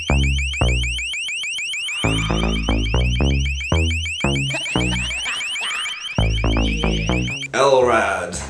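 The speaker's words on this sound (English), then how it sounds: "L.R.A.D., the long-range acoustic device." A loud, harsh alarm tone from a long-range acoustic device (LRAD) repeating in rapid pulses with a piercing high warble, sounding close and overwhelming, ending in a burst of distorted noise.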